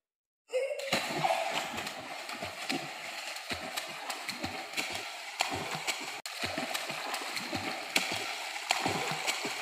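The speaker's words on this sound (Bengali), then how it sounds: "তাহলে এখন সাঁতার শুরু হয়ে যাবে।" Children swimming splash continuously in water, with repeated churning slaps and gurgling close by that start abruptly and carry on steadily throughout.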